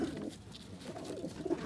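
Sialkoti pearl-marked pigeons cooing, two soft low coos a second apart, faint and close, with quiet background.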